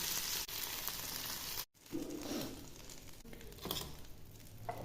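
Brinjal pieces fry in oil with turmeric and salt, giving a steady close sizzle with a brief break partway through, then stirring and crackling resume.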